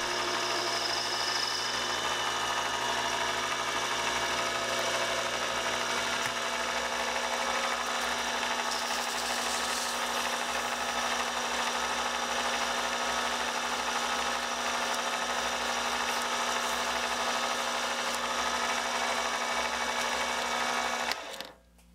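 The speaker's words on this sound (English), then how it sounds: "do some sanding to smooth out any sharp edges." Continuous abrasive rubbing and whirring of a power sander smoothing metal edges, steady and fairly quiet, stopping abruptly at the end.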